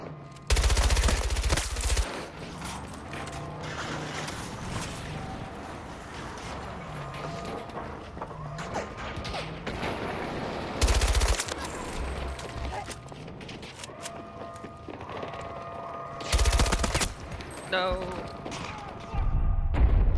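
Battlefield 2042 gunfire from an AEK rifle, bursts of rapid automatic shots cracking loudly in short volleys with gaps between, over in-game chatter and background battle noise.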